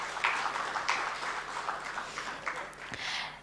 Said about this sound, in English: A huge round of applause for Dr.